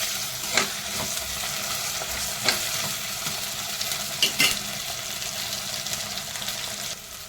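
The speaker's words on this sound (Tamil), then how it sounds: "நெக்ஸ்ட்டு இஞ்சி பூண்டு பேஸ்ட் போட்டுக்கலாம்." Ginger garlic paste fries with onions and curry leaves in a pan for chicken curry, a continuous close sizzle broken by a few sharp spoon scrapes and clinks of stirring.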